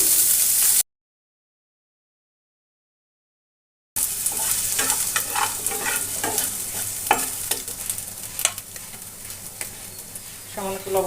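Diced potato and chopped onion sizzle steadily in a hot pan, with frequent scraping and clicking strokes from stirring; the sound drops to a brief silent gap before the frying resumes.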